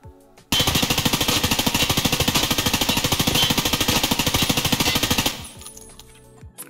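Sustained automatic fire from an M4 rifle in Escape from Tarkov, a loud, fast, even stream of shots lasting several seconds before cutting off, with faint rattling after.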